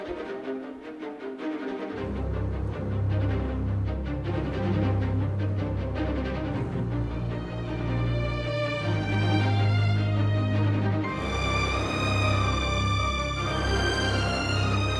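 Layered orchestral strings, deep basses and higher violins, sound gritty and saturated from OTT compression on both and Decapitator distortion on the basses, playing sustained chords that swell and shift across the passage.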